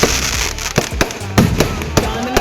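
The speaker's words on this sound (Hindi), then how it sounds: "इस बीच फिर से एक लंबी दूरी की इन्होंने मिसाइल फायर की" Fireworks at the Dewa Sharif fair, with sharp bangs and crackling bursts arriving at irregular intervals, loud and fairly close over a busy crowd background, with someone commentating throughout.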